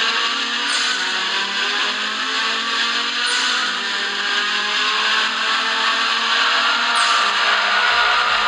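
Race car engines in a street racing video game, a loud continuous high-pitched drone that stays steady throughout with no talking.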